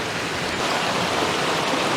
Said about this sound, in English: The little river comes down, leads all the way down to Glen Ogwen.